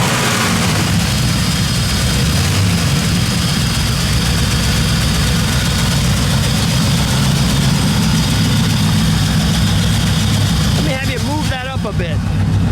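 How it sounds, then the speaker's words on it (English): A 1959 Pontiac Catalina with a 389 Tri Power V8 idles steadily and close up, a deep even rumble that continues throughout while people talk. "let's get in it and fire it up"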